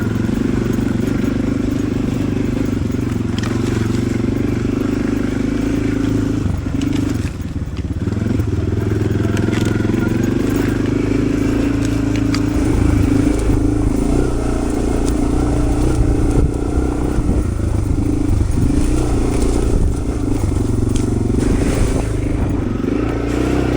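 A Suzuki DR650 and Honda CRF300L dual-sport motorcycle ride a back-country trail in British Columbia, the engines droning steadily and loudly throughout with rumble, wind buffeting and occasional clatter from the terrain.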